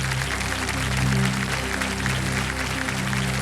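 Steady applause fills the clip, a dense wash of clapping from a TV quiz show studio audience on Kaun Banega Crorepati beneath a low, humming background tone.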